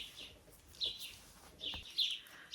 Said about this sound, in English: There's birds out there.